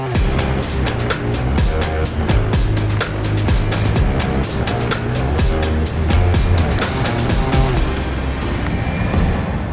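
A transport drone arriving in the video game Satisfactory, loud and continuous, with a rhythmic pulsing mechanical drone and repeated beat-like thumps holding steady for about ten seconds before easing slightly at the end.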